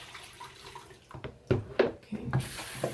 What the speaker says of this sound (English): I am going to run some more water.